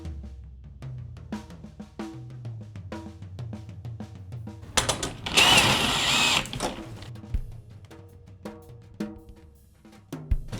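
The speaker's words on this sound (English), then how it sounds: "if you are using a drill with a drum tension rod bit, be very, very careful." A power drill with a drum tension rod bit whirs in several short bursts tightening drum tension rods, with clicks and clatter between them, then one longer, louder run of grinding noise near the middle.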